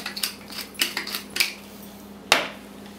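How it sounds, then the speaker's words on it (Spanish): A pepper grinder twists out a series of short, gritty ratcheting bursts in quick rhythm during cooking, close and clear, ending with one sharper clack. "lo voy a moler de pimienta"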